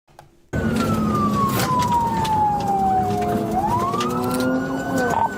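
A police car siren starts abruptly after a moment of near silence. It then wails loud and close, sweeping slowly down and back up in pitch over engine and road noise.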